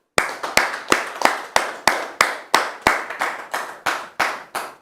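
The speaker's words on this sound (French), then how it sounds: "Applaudissements." Studio audience on a French television talk show clapping in unison, about fifteen crisp, regular claps at a steady rhythm, close and loud with no voices.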